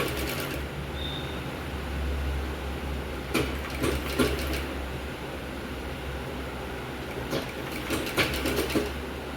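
A sewing machine stitches the front part of a katori blouse, its steady motor hum running under short bursts of rapid needle clatter that come in two separate runs.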